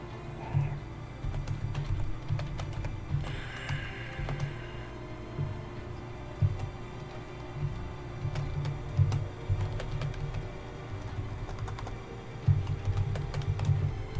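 Computer keyboard keys typed in quick, uneven bursts over a steady low hum, close and fairly quiet, with short pauses between runs of keystrokes.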